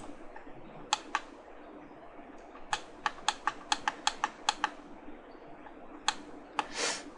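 Typing on a computer keyboard during 3D CAD drafting work in AutoCAD or Inventor, a close series of crisp key taps in uneven bursts, with a brief rustle at the end and no voices.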